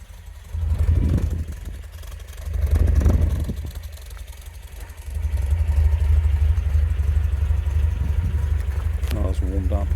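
A 1966 MG MGB Roadster engine, warmed up and fitted with overdrive, idles with a steady low rumble throughout, swelling slightly at moments, with voices talking over it.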